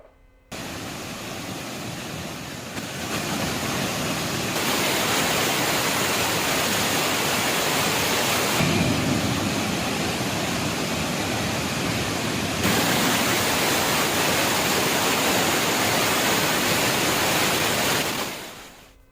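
Courtallam main falls roaring in monsoon flood, a loud, dense, unbroken rush of falling water that holds steady for nearly twenty seconds with no voices.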